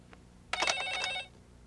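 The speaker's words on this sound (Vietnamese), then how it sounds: "Ê, điện thoại kìa, đi nghe đi." A telephone bell rings once in a short, bright burst of rapid trilling at moderate loudness indoors, in a scene from a Hong Kong TVB movie, then the room falls quiet.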